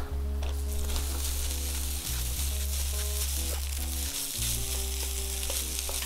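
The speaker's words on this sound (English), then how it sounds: "Adding a little bit more sesame oil and in with the rice." Eggs and rice frying in sesame oil for a fried rice dish, a loud close crackling sizzle that runs steadily throughout with light stirring and no speech.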